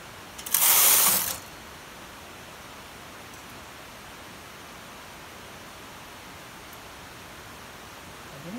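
A knitting machine carriage pushed across the needle bed while set for hold: one loud, close mechanical rattling swish lasting under a second, followed by a steady low background hiss.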